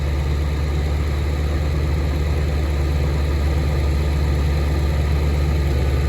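A truck engine runs steadily with a deep, loud low rumble throughout, a constant idle-like drone with no talking.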